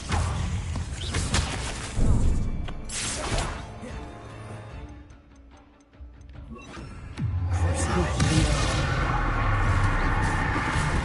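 Repeated Confringo fire spells are cast in the Hogwarts Legacy video game during a fight, each landing as a loud, booming blast with whooshes and crashes amid dense combat noise and a short lull near the middle.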